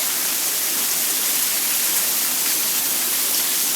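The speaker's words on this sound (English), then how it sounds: "because it's totally raining" Heavy monsoon rain pours steadily in a broad, even hiss, loud and unbroken, with no voices heard.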